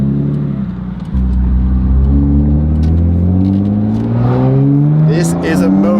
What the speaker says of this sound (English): There's a car leaving the yard.